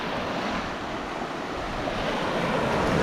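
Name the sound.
sea waves on a rocky beach at Kourion, Cyprus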